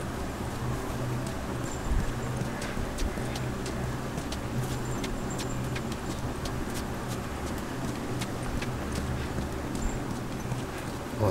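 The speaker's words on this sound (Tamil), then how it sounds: "குதிரை கொண்டு வா." Horse hooves clip-clop steadily through The Last of Us Remastered on PS4, a continuous rhythmic patter of footfalls over an ambient outdoor bed, moderately close and with no speech.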